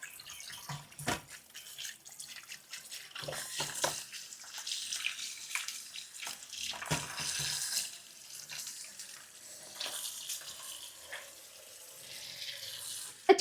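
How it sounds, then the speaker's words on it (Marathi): Freshly harvested kitchen-garden vegetables are washed together in water, with irregular splashing and sloshing, running tap-like flow and drips, fairly close but soft, and no talking. "डायरेक्ट पाण्यामध्येच छान वॉश करून घेते सगळ्या भाज्या एकत्र."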